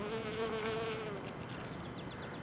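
Honey bees buzz softly outdoors, a faint continuous drone with one bee passing briefly close by, no talking.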